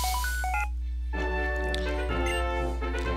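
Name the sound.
phone call ringing in Pokemon Black and White video game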